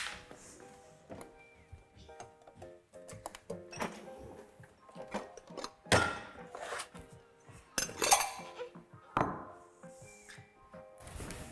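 Dishes and cutlery clink and clatter as a table is set early in the morning in a home kitchen, with scattered sharp knocks and rattles close by, some louder than others.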